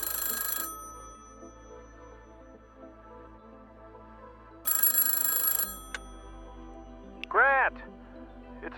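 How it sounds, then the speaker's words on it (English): A telephone bell rings after midnight in two loud, brief bursts several seconds apart against a quiet background, with a short warbling electronic chirp following. "a telephone rang."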